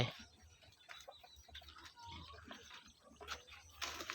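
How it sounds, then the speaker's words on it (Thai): Domestic chickens settling to roost on a roof in a rural Thai home garden, with low clucks and bird calls under steady background noise, faint and somewhat distant, no talk. "ไก่บ้านเ้ากะกำลังสิขึ้นนอนตรงลังคา"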